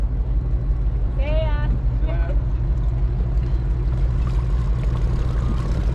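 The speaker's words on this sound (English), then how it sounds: "See, they have a nice little 4-stroke motor. It's quiet, but they're quite heavy." A boat's small four-stroke outboard motor hums steadily and quietly throughout, a constant low drone with people talking over it.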